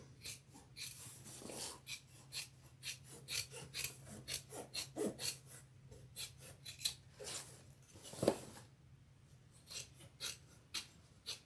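Sharp scissors trim handbag lining fabric close by, giving a quiet run of repeated crisp snips and rasping cuts with no talking.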